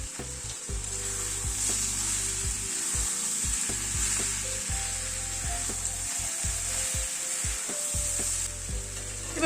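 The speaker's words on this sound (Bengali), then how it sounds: "মেথি শাকটা দিয়ে একটু নাড়াচাড়া করে নিলাম" Fenugreek greens frying in a pan give off a steady sizzle while a utensil stirs them, its scraping strokes sounding in an uneven rhythm close by.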